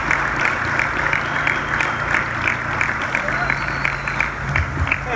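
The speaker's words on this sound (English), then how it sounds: "Another round of applause for Congressman Crenshaw." Crowd applauding at a university political talk, sustained clapping from many hands with a distinct rhythmic patter, loud and close, mixed with some crowd voices underneath.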